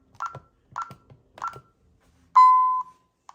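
Security alarm keypad beeping during disarming: three short two-tone keypress beeps at a steady rhythm, followed by one longer, louder confirmation tone, close and clear with no talking.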